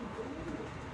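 Pigeons being re-homed coo softly in the background, a faint low murmuring call under steady ambient noise.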